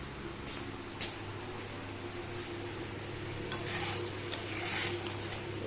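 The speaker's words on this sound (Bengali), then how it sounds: "আমার ঝোল ফুটে উঠেছে।" Curry broth for doi katla fish curry boils in a pan with a faint, steady bubbling hiss, broken by a few soft clicks and clinks, with no voices.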